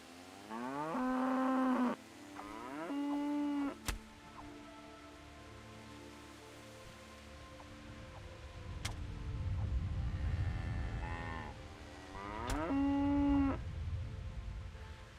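In the video game Kingdom Come: Deliverance, cattle moo several times, some calls close and loud and others fainter. Sharp clicks and a rain-like wash fill the background, and no one speaks.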